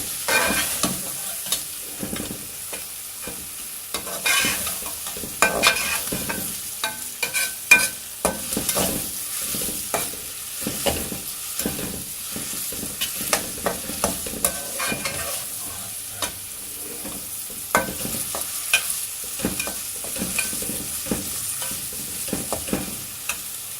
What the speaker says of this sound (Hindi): टमाटर गल जाए इसको तब तक फ्राई करना है।